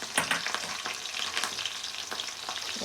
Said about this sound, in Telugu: వేసేసుకొని ఆనియన్ కూడా కొంచెం కలర్ వచ్చేంత వరకు వేసుకున్నామండి